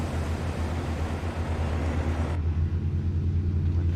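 A Western Star truck engine in American Truck Simulator drones at low RPM, a steady deep hum with a heavy low rumble that turns duller and muffled partway through.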